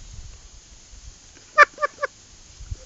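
Three short, soft quacking notes from a Foiles Timber Rattler duck call, close and fairly quiet, with near silence around them.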